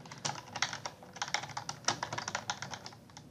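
Typing on a computer keyboard while entering invoice details into hotel accounting software: quick, irregular bursts of light key clicks, close and fairly quiet, with brief pauses between runs of keystrokes and no talking.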